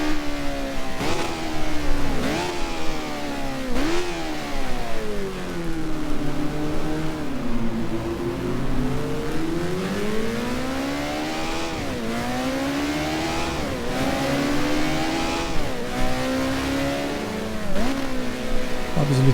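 A damaged Formula 1 race car engine in the F1 Challenge racing video game, set in a 1972 season, revs and whines continuously, pitch rising and falling through repeated gear shifts, steady and prominent throughout.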